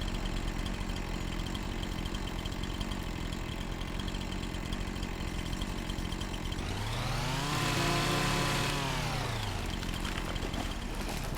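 A chainsaw used for cutting trees on a mountain top idles with a steady rattling buzz, then revs up to a loud rising and falling whine for several seconds before easing back, with no talk.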